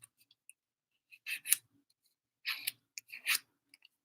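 Scissors cut through folded paper, a few quiet crisp snips coming in small clusters separated by silence, close and isolated.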